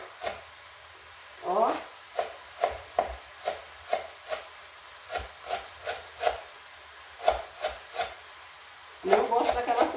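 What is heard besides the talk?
chopping fresh coriander for chicken pie filling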